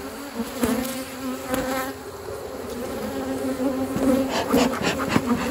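Dense, steady buzzing of many honey bees swarming close by around a queenless hive being smoked, with individual insects whining past, no talking.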